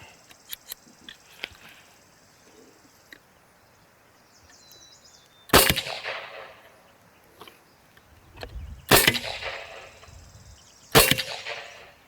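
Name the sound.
shot from Evanix Max ML 9mm airgun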